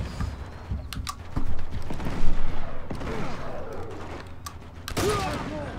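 Gunfire rattles in Uncharted 2: Among Thieves, with scattered shots and short bursts amid creaks and mechanical clatter, some close and sharp and others further off, over a busy combat background.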